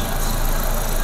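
A car engine idling steadily at close range with the bonnet open, a continuous even rumble and mechanical hum that holds level throughout, no voices over it.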